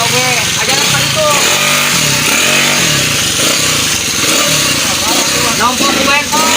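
A petrol motorcycle engine runs loudly and close, buzzing and revving continuously while people talk over it.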